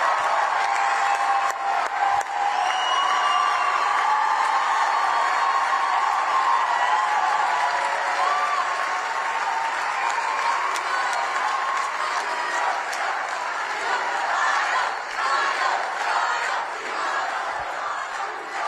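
A large crowd at a Turning Point USA rally applauds and chants in a sustained, roaring swell, with overlapping voices and claps filling the space, loud and continuous, with occasional sharp claps standing out.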